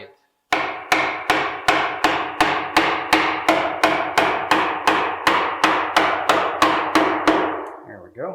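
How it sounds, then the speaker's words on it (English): About seventeen sharp, evenly spaced hammer blows drive a fitting into a drilled hole for smart home pre-wiring, each strike loud and close with a quick ringing decay. "I'm going to actually have to hammer it in a little bit"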